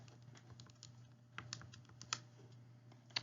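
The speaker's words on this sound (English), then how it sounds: "When I type all that in my calculator" Keys tapped on a calculator keypad while working a free fall physics problem, a run of faint, quick clicks with a few sharper taps, close and alone over a low steady hum.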